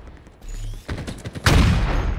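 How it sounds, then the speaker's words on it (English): Halo Infinite multiplayer gunfire from a video game match, arriving as a quick volley of sharp shots that swells into a louder, denser burst near the end, close and loud with no talk over it. "I'm being shot at."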